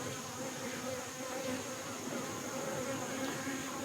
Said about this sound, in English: there's only like 100 bees here